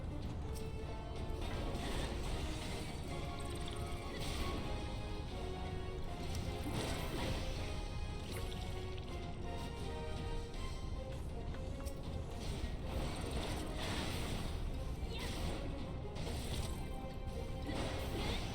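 Heavy elevator machinery grinds and clanks steadily inside a Final Fantasy XIV dungeon, a loud continuous mechanical churn of ratcheting gears and metallic knocks running throughout with no pauses.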